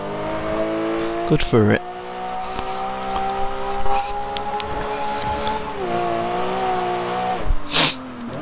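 A Bugatti EB110 in a racing video game accelerates hard out of corners, its engine rising and falling in pitch with brief tire squeals, while someone talks over it.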